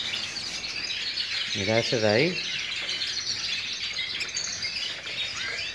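Caged birds in moult chirp and twitter steadily in a room, a thin continuous high chatter with one louder rippling trill in the middle, while someone speaks briefly over it.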